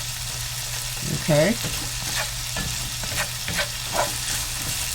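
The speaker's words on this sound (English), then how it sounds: "just keep doing your onions a little bit so they'll get a little more translucent" Onions sauté in a frying pan with a steady sizzle, broken up by scraping stirs and a few spatula clinks, while a voice speaks briefly over the cooking.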